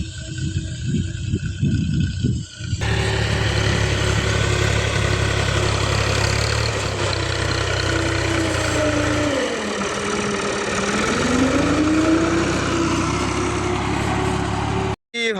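A tractor engine runs steadily and loudly in a village field, with a rough mid-range drone that shifts in pitch as it works, following a short stretch of quieter, busier sound at the start.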